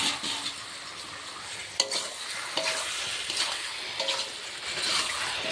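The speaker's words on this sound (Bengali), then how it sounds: "তো আমি এখন এটা একটু কষিয়ে নেব, নেড়ে চেড়ে নেব।" Fish pieces stir-fried in a watery pan make a moderate sizzle with wet bubbling, punctuated by several sharp spatula scrapes and clinks at irregular intervals, close and without talk.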